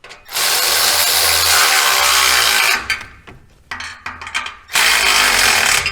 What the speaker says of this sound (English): now I'm crushing the clamp top to bottom instead of side to side